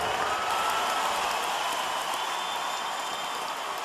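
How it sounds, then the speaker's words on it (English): Sustained roaring ovation from a basketball arena crowd as Kobe Bryant leaves the game injured, a dense wash of cheering and clapping holding steady throughout. "The ovation."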